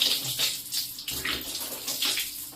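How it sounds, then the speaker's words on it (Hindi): Water runs at a gentle, steady rate from a tap while hands are washed for wudu, producing a continuous close splashing hiss with no talking. "तो देखिए पानी हल्की स्पीड में रखें"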